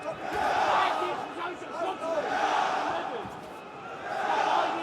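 A large arena crowd at an OKTAGON 66 MMA fight in the PSD Bank Dome roars in rising and falling waves, a continuous dense wash of voices heard from within the hall.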